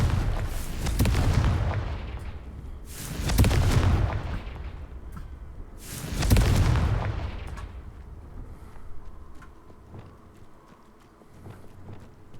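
Spell explosions from Confringo in a Harry Potter video game, three loud booming bursts about three seconds apart, each decaying into rumble, with quieter game ambience trailing after.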